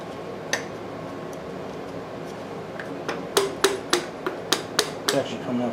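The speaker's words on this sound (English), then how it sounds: "Let me get a plastic hammer so I can tap on that." A plastic hammer taps on a part of an old Maytag engine being restored, near an asbestos gasket: after a lone early knock, a run of about eight sharp, close, evenly spaced taps over a low room hum.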